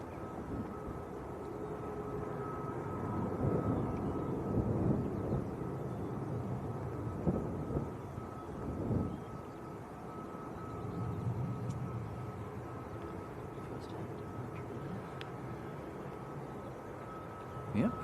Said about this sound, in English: Right, Dreamliner next to go.